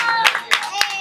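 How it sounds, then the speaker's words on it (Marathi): An audience at a children's games event claps in a few quick, scattered bursts, heard under and between a person speaking. "चला जोरदार टाळ्या झाला पाहिजे"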